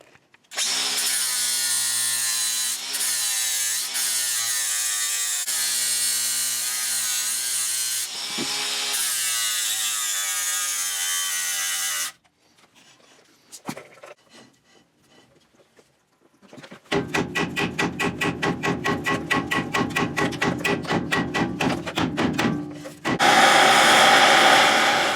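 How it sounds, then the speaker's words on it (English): Grinding down rivets on a Chevy C10 brake drum hub, a loud, sustained high-pitched power-tool whine, a quieter pause of scraping and handling, then rapid pulsing grinding bursts and a harsher final stretch. "I'm going to go ahead and grind them on down in order to get this hub off."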